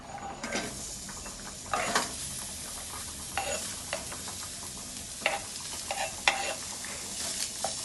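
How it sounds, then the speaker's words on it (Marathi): Dry coconut (khobra) roasting in a pan without oil, prepared for a misal rassa; a soft background hiss with intermittent spatula stirs and scrapes recurs every second or so, close and moderately quiet. "खोबरं छान भाजून झालेलं आहे आता आपण काढून घेऊया आपण भाजून घेऊया"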